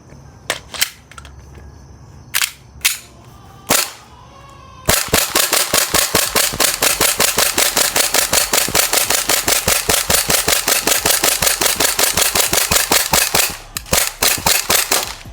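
Airsoft Glock 18C pistol with a freshly warmed magazine firing a few single shots, then a long loud full-auto burst of rapid sharp cracks for about nine seconds before it stops, close to the listener.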